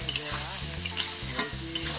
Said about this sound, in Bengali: এই সবজিটা আমার এই ভাজা ভাজা হয়ে এসছে